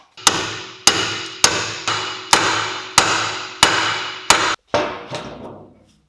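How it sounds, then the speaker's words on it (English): Eight sharp metallic hammer strikes on a pick driven in to free a lower control arm joint on a Renault Megane III, at a steady, deliberate pace, each ringing briefly, close and loud with no talking. "I'm going to use a pick or fork and just hammer it in there,"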